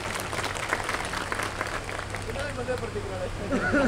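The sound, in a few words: crowd applause at a political rally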